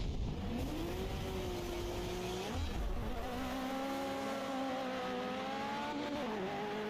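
A Ferrari F40 races in Forza Horizon, its engine revving loudly through gear changes, pitch climbing, dropping at each shift and climbing again without pause.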